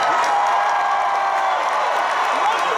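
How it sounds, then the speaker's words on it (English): A convention panel audience in Houston fills the room with steady, loud applause and some cheering, sustained throughout without a break. "they're clapping for you"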